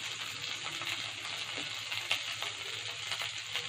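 Curry leaves and vegetables in a hot pan for sambar, producing a continuous moderate sizzle with occasional faint scraping clicks, close by and without talk.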